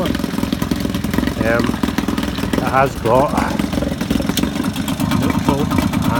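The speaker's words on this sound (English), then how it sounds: "This engine likes to idle quite nicely." A vintage Yamaha 3.5hp outboard engine idles in a steady, rattly putter while someone talks over it throughout.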